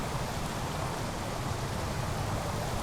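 Rushing water flushes in the horror video game Amnesia, a continuous broadband wash with no breaks or drops, fairly loud and unbroken from start to end, with no voices.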